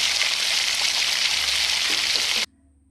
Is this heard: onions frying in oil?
yes